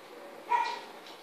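A border collie lab mix gives a single short bark or yip, moderately near, over a low steady background noise.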